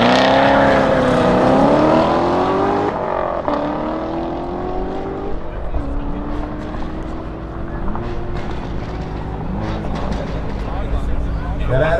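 A Corvette and a tuned SUV roar down a drag strip side by side, engines rising in pitch through gear changes with shifts breaking the climb, loud and close while a commentator talks over them.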